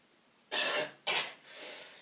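Three harsh coughs in quick succession, the first two sharp and close together, the last softer and drawn out, with no talking.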